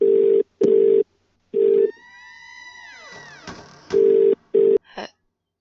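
A phone in The Cat Lady game gives loud electronic rings in short repeated bursts, with a pause between them that holds a rising swooping tone.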